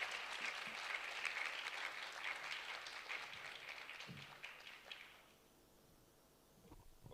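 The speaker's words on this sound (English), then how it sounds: "can we have another session of applause, please?" Crowd applause at a medical school finalist dinner for the MBChB class of 2026, a dense, steady clapping that fills the room for about five seconds before fading out, followed by a quiet pause.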